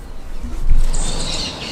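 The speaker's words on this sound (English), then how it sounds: "we woke up here at the Airbnb house to a bunch of tropical birds outside the window" Tropical birds chirp outside a house window in early morning in Panama, their high twittering calls rising over a low background hum.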